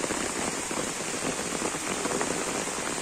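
Heavy rain pours steadily onto surfaces during a fishing trip, a dense, even hiss of drops up close with no voices.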